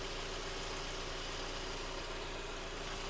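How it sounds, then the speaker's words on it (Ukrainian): A Skoda Octavia A5 engine idles with a steady, even hum and hiss that never changes over the whole stretch. "Робота двигуна, двигун працює чітко."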